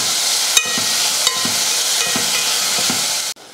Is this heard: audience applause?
no